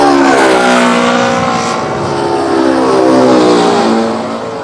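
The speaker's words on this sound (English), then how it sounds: "As the plane flies away, the sound waves stretch out and the frequency and pitch change again." An airplane flying past with a loud, roaring engine drone whose pitch slides downward in sweeping bands as it passes and recedes, close and dominant with no talk.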